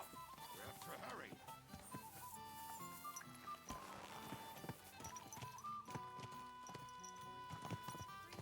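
Horse hooves clip-clop in the medieval video game Kingdom Come: Deliverance II, sounding as a rhythmic clatter of steps under busy game music and other sound effects.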